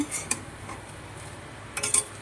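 Metal spoon scraping and clinking in a pan while spice powder is mixed into water spinach greens, two brief clusters of faint clatter near the start and end, otherwise quiet.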